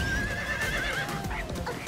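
Horse in the online game Alicia Online gives a loud, drawn-out whinny over a steady game backdrop, with a hint of hoof clip-clop underneath.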